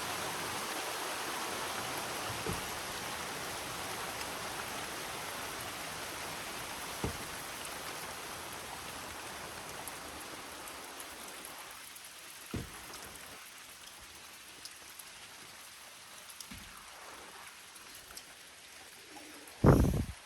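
Steady rainfall patters over a wide area, a soft continuous hiss with occasional louder drips landing close by, thinning out somewhat toward the end before one sharp nearby knock.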